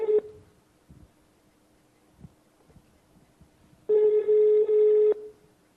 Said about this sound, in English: You're dialing from the phone